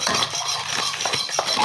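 Pancake batter with flour being stirred in a bowl, a steady scraping and clinking of a utensil against the dish, close and continuous for the whole moment with no voices.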